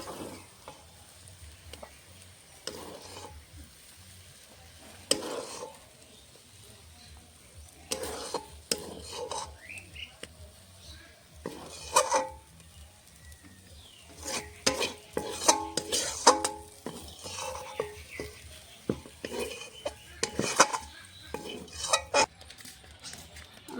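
A spoon stirs vegetable semolina upma in a pan, giving irregular scraping and clinking strokes of metal against the pan with a faint sizzle beneath, sometimes in quick bursts and sometimes in pauses.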